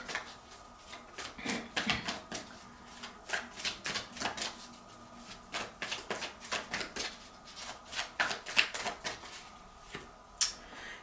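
Tarot cards being shuffled by hand in repeated riffling bursts, close and fairly quiet, with short pauses between shuffles and no talking.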